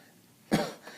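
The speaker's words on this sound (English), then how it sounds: "and it will make you cough" A single short, sharp cough after inhaling from an electronic cigarette, close and fairly quiet, with a faint throaty follow-up.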